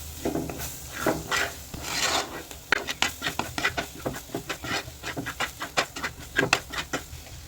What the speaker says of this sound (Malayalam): അപ്പോൾ അത് മൂന്നും കൂടി നല്ല പോലെ നമുക്ക് ഇളക്കി മൊരിച്ചെടുക്കണം